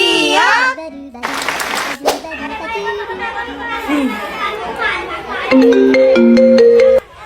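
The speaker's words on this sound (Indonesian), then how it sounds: "Ibu telepon Bu Dewi." A phone ringtone plays during a call in a noisy classroom, its bright melodic tones rising clearly toward the end over children's chatter and someone speaking.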